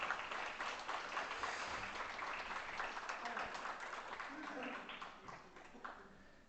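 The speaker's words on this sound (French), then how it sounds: "Vous pouvez l'applaudir." An audience at a courtroom-style hearing applauds as a witness comes forward to testify, a steady patter of clapping that fades near the end, with voices talking underneath.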